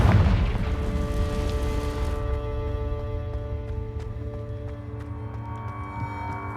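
A Confringo spell in Hogwarts Legacy bursts in a heavy, booming blast right at the start, then fades into sustained ringing tones that carry on to the end.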